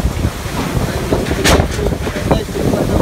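Strong typhoon wind from Typhoon Quinta in the Philippines buffets the microphone in a steady, rumbling roar, with gusts swelling louder midway through.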